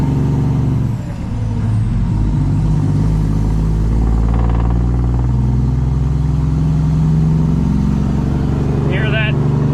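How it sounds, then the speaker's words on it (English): Heavy truck engine rumbling steadily with a crackling, popping exhaust note throughout, loud and close from inside the cab, the drone staying constant in slow one-lane traffic. "engine cracking through the exhaust"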